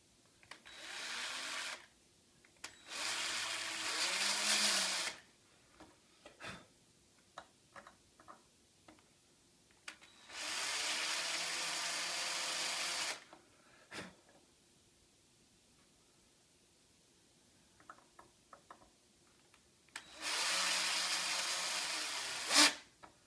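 A drill bores a center-punched hole in several separate runs of a few seconds each, a steady whirring grind with quiet gaps and light ticks and clicks between, fairly faint overall.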